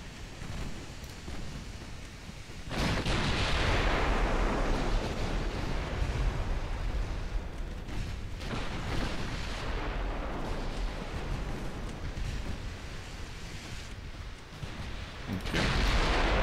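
Warship secondary guns on the Savannah fire in a naval dreadnought game, loud broad booming blasts in a few heavy bursts with rumbling decay between them.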